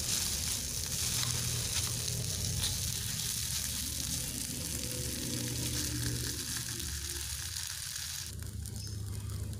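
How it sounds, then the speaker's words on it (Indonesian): Sausages with black pepper sauce sizzle and fry steadily in a hot pan, a continuous close hiss with occasional soft scrapes as they are turned, running without pause throughout. "Kita panggang sampai sosisnya matang. Oke, sambil dibolak-balik ya teman-teman supaya matangnya merata di semua sisinya."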